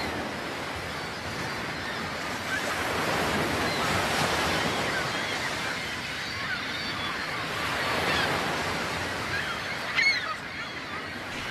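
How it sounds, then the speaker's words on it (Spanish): Seagulls flock and call by the sea at Finisterre on the Galician coast, their cries scattered over a steady wash of surf and wind, moderately distant and never very loud. "El revuelo de las gaviotas avisa a los peregrinos de la proximidad de su meta."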